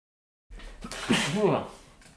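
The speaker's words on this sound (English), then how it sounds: "That was a sneeze, in case you couldn't tell." A person sneezes once up close after a short silence, a sharp burst followed by a voiced, tonal tail.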